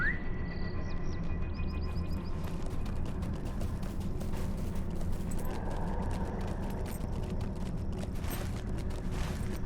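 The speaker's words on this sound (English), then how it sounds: "Get on my horse." Horse hooves clip-clopping in the online video game LOTRO (Lord of the Rings Online), a steady rhythmic trot under low game ambience, with brief chiming interface tones near the start.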